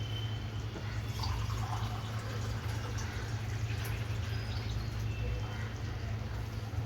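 Water is poured glass by glass into a pot for prawn rice, a faint splash and trickle over a steady low kitchen hum.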